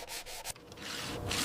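Coarse grit sandpaper rubs by hand over the raw, pitted steel of a Mauser rifle during restoration, a close, steady scratchy rasp in short repeated strokes with no talking.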